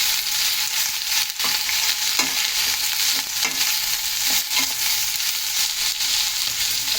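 Cabbage frying in a pan while being slowly stirred, a steady broadband sizzle with scattered scraping clicks from the spoon, close and fairly loud, no voices.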